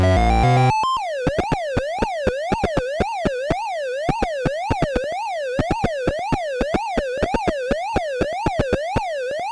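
Pac-Man 4K on an Atari 2600 gives a short opening jingle, then a steady warbling siren tone rising and falling with rapid regular blips of pellet-eating chirps, loud and electronic, with no talk.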